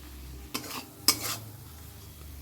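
Rui fish being stir-fried with cumin, coriander and chilli powder, with two brief scraping stirs of a spatula in the pan over a soft sizzle, close and fairly quiet, with no talk.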